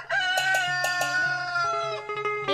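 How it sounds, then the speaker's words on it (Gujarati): A rooster crows in a Gujarati devotional DJ mix: one long, loud, drawn-out call with a rising start and a falling tail, set against a steady low drone and backing music. "કુકડો બોલે ની બાપ"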